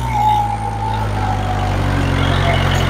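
A new Kubota MU 4501 tractor engine drones steadily and loudly at low pitch, labouring under load while tilling, with a faint whine drifting above the rumble.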